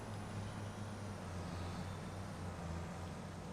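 A manual-transmission tractor chugs under heavy load, a steady low diesel drone with a rumbling, pulsing throb that holds constant and close throughout, with no voices.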